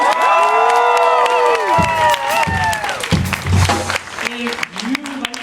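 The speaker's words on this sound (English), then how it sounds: "Can we give them a round of applause?" Concert audience at a live show in a Seattle venue, loud applause with cheering and high whoops, fading somewhat toward the end as scattered voices remain.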